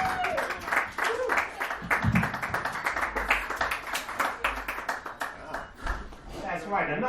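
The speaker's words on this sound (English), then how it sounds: "Another round of applause for Courtney" Comedy club crowd applauding a comic's set, a dense, steady wash of many hands clapping at close range with some cheering mixed in, loud throughout.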